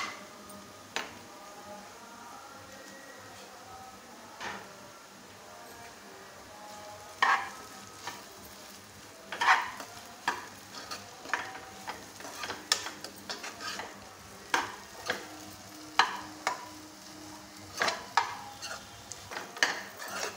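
Spoon stirring plantain curry in a frying pan as chili powder goes in, a steady low sizzle under repeated scraping and clinking strokes that grow busier toward the end.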